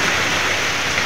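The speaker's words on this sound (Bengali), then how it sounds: "প্রচণ্ড কিন্তু প্রচুর কিন্তু বৃষ্টি হচ্ছে।" Heavy rain pours down, a dense, loud, continuous rushing hiss with no breaks across the brief stretch.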